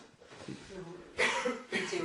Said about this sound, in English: it is a bad cough